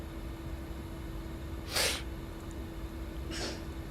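Two short, sharp sneezes about a second and a half apart, the first louder, over a steady low hum and faint background noise; no talking.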